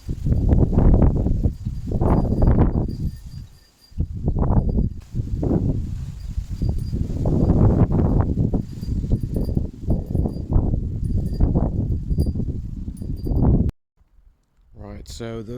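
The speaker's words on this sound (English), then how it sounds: "those wind gusts just shown were probably only about 30 miles an hour or so" Strong wind gusts buffet a tropical garden in the UK during a storm, a loud continuous roar with rustling foliage that swells and eases in waves before dropping away abruptly near the end.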